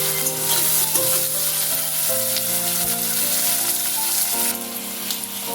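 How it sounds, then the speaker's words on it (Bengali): Chopped onion fries in a tempering of cumin seeds and a dried red chilli, giving a loud, steady sizzle with light stirring throughout. "আলু ভেজে তুলে রাখার পর ফোড়নে দিচ্ছি জিরে, একটা শুকনো লঙ্কা। ফোড়নটা কিছুক্ষণ নাড়াচাড়া করার পর দিয়ে দিচ্ছি পেঁয়াজ কুচি।"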